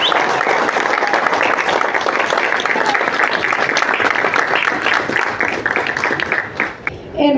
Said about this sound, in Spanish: de nuestro queridísimo autor Rubén Marrufo, a quien le pido fuertes aplausos a todos